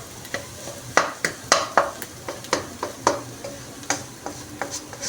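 Spoon scraping and clinking against a pan while an egg mixture with chopped coriander is stirred, a steady series of sharp taps and scrapes over a faint sizzle, close and fairly quiet.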